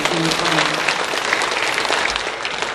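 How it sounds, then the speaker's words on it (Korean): Church congregation applauding together in a worship service, a dense steady clatter of many hands that carries loudly through the whole stretch with a faint voice over the start. "주님께 영광의 박수 다시 한번 돌려드립니다"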